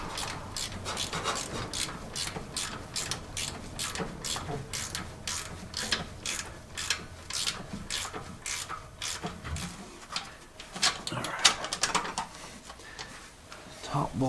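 Wrench work on the alternator bolts of a 1971 Chrysler New Yorker: steady rasping, ratcheting clicks and rubbing of metal, repeated in quick strokes throughout, close by, with a voice talking over it at times.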